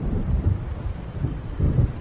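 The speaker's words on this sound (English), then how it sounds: "It seems there's a storm coming." Low, rolling thunder rumbles steadily from an approaching storm in the video game Alan Wake, a deep continuous growl swelling and easing, with no voices.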